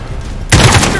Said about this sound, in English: Keep that MG busy and get up there!